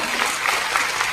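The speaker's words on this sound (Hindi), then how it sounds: "जबरदस्त तालियां" Loud, dense applause from an audience at an AWPL success-story gathering, steady and sustained throughout, with no talk over it.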